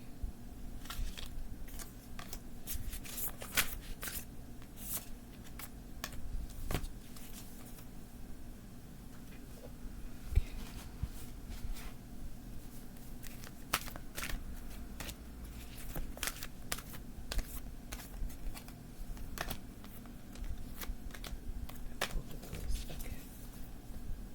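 A deck of tarot cards is shuffled in a quiet room, giving repeated soft riffling and flicking bursts at an irregular rhythm, close by and fairly faint, with no talking.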